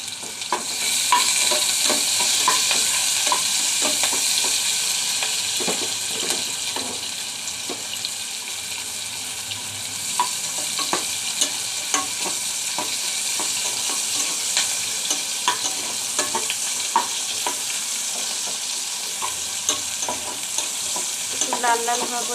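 Ghot kochu taro fries in a pan with garlic, green chillies, onion and whole cumin, a steady close sizzle broken by frequent spatula scrapes and stirring clicks, with no talking.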